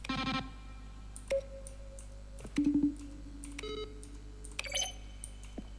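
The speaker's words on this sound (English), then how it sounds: "Each sound is a mix of a keyboard stroke and the synthesizer tone." Button presses from The Stanley Parable game, each a keyboard stroke blended with a synthesizer tone, sounding as several separate clicks and short sustained tones spread across a quiet stretch with no talking.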